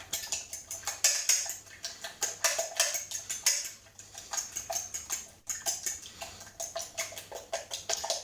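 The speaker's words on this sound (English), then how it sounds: "What do you think about my whisking technique" Eggs are whisked with Parma ham in a bowl, a fast, steady rhythm of close, bright clinking strokes of whisk against the bowl, briefly pausing mid-way before resuming.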